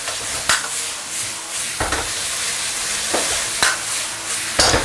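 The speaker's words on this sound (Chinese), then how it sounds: "就下入肉丝。 好，最大的火去翻炒它。" Shredded pork is stir-fried in a wok over maximum heat, giving a steady hiss of sizzling with repeated sharp scraping clatters as the meat is tossed, close and fairly loud, with no one talking.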